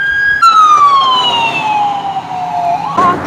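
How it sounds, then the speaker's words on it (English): An ambulance siren wails loudly up a road in Chesnee, South Carolina, its pitch sweeping down as the vehicle passes close by, with no talking. "We're having an ambulance come up the road."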